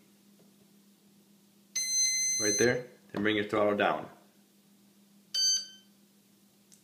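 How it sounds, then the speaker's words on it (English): A Dualsky Hornet electronic speed controller sounds short beep sequences twice, with someone talking between them over a low steady hum. "It's gonna beep"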